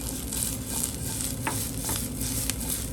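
Seasoned eggplant sautéing in a pan for a quick sauté, making a dense, steady sizzle with faint occasional scrapes, close and even in level, no speech.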